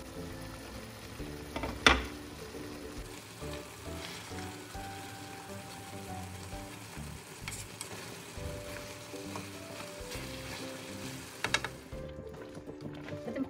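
Osso buco sizzles and simmers gently in a covered frying pan, a steady close crackling bubble throughout with an occasional clink of the lid or spoon, and no talk.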